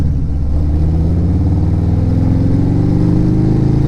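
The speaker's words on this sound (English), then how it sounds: "in rain mode it's going to take a little bit of time for the motor to actually catch up to the throttle" A Harley-Davidson motorcycle engine in rain riding mode idles loud and close, with a steady throb that slowly rises in pitch as the motor lags behind the throttle.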